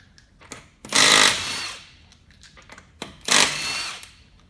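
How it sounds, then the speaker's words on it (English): An impact wrench rattles off 19 mm lug nuts on a Ford Escape raised on a lift, two short loud hammering bursts about two seconds apart with faint clicks between, close by. "These lug nuts are 19 mil. We'll go ahead and take those off."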